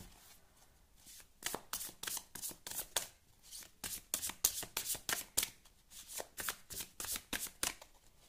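A deck of tarot cards is shuffled close by, giving a quiet, steady run of rhythmic flicking and riffling snaps with no talking.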